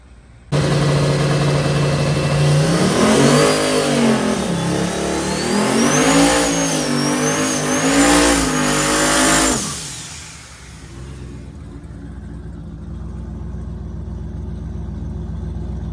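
A car engine revving hard during a burnout with rising and falling pitch for several seconds, then abruptly dropping to a lower rumble with steady background noise.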